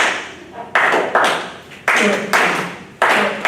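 A small group of people claps a stilted long-short-long rhythm for a klezmer dance, loud and close. The bursts of claps come in uneven clusters with short pauses between them.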